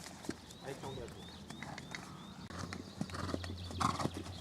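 A horse's hooves clip-clop steadily as it is ridden through a warm-up, with soft snorts and faint creaks in between and a voice talking over it.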